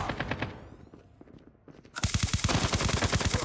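Rapid automatic gunfire in Call of Duty Mobile, first a lighter burst of shots, then after a short pause a loud, dense stream of rounds fired in quick rhythm.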